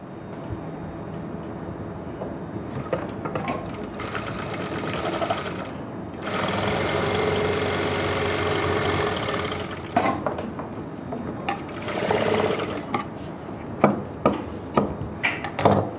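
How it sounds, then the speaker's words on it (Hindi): Electric sewing machine stitching along the side fitting marks of a Nayra-style suit, a steady whirring run that starts and stops in several bursts, close and fairly loud, with no talking. "इस मार्किंग के ऊपर अब आपको करनी है सिलाई"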